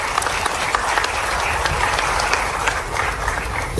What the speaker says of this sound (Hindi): एक बार पूरे मंच के लिए जोरदार तालियां बजा दें